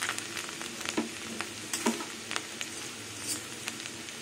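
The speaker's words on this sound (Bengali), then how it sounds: "রসুনটা হালকা ভাজা হবে" Sliced garlic frying in mustard oil with dried red chillies, a steady soft crackle with a few louder spatters and utensil taps, close by with no talking.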